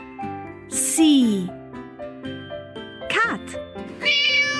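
A cat meows several times in short, rising and falling cries, mixed with a child's speech and light chiming tones.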